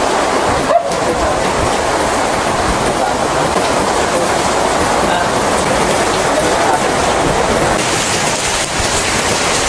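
Heavy rain pours down steadily, a dense, loud hiss that fills the whole stretch with no breaks.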